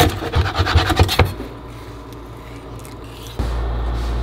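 A knife cuts through a cleaned, gutted fish with a quick series of scraping, crunchy strokes that then give way to a quieter, steady background hum and a low thump near the end.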